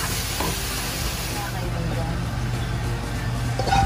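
Chicken breast frying in a pan with browned white onion, a steady sizzle and hiss heard close, with people talking over it.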